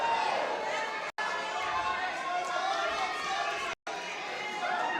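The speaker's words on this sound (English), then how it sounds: "The crowd respond." Crowd noise at a BJJ grappling match, a steady murmur of spectators reacting during late scrambles, continuous under a commentator's voice.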